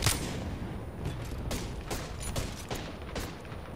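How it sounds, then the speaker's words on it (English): Pistol fire in the video game Apex Legends, a string of sharp cracks in irregular bursts over a steady background of game noise, with no talk. "We're doing a pistol fight."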